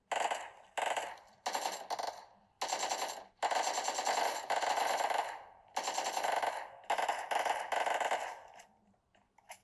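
Rapid automatic gunfire in PUBG Mobile on a Xiaomi 15 Pro, loud bursts of machine-gun fire in several separate strings, some long and sustained, with brief pauses between and no talk.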